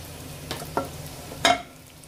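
Asafoetida dropped into hot oil while cooking a Bengali vegetarian kathal dhokar dalna, giving a few short sizzling bursts, the last one loudest, with quiet stirring in between and no talking.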